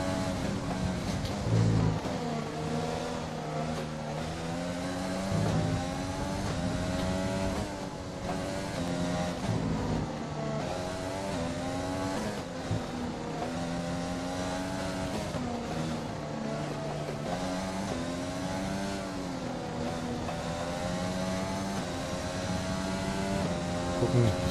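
Formula 1 race cars in the game F1 2020 on the Japan circuit, engines droning and shifting pitch continuously at steady, loud level throughout with no talk.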